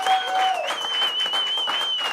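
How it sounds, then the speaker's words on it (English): Applause rises from an audience at a small live music performance circle, dense continuous clapping with a whistle or feedback tone ringing above it, steady and close. "let's get a big round of applause for Kevin Dooley,"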